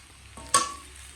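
Onion and raw chilli hit a hot pan with a sudden soft sizzle that quickly fades into a faint, steady frying hiss; the whole sound is quiet and close.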